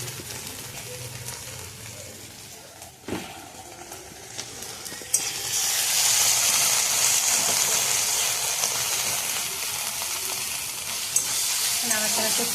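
Onions frying in a pan with ginger-cumin paste hiss in a loud, steady sizzle, broken by the scrape of a spoon as they are stirred. The sizzle swells sharply partway through and stays strong to the end.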